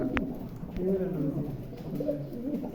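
Pigeons coo in soft, repeated low warbling phrases nearby at a breeding loft, with a brief sharp sound near the start and a steady background hum.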